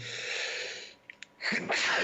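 A single sneeze during a Ukrainian news interview, a sharp burst after a stretch of breathy background noise, followed by a louder exhale or second burst; no talking heard.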